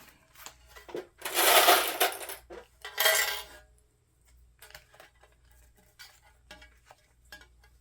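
Metal sewing clips are handled and clipped onto a handbag during sewing, with two loud metallic clattering bursts followed by a run of lighter, scattered clicks and taps, close up and without speech.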